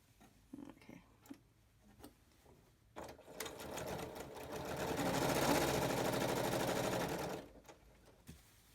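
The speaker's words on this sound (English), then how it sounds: "put it on top of this one, and I start sewing" Sewing machine stitching quilt blocks together. A few soft handling clicks and taps lead into a steady, close whirring run that swells for about four seconds and then stops.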